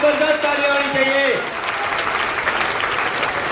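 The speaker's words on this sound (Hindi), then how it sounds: "इन नए भाई बहनों के लिए एक बार जबरदस्त ताली होनी चाहिए साहब" An audience claps in a hall, a dense burst of applause that starts right away under a loud speaking voice, then carries on alone and a little softer for the last couple of seconds.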